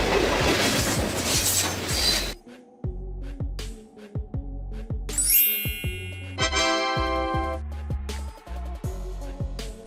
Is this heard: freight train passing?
yes